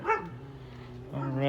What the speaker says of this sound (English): y'all don't have to listen to the dog barking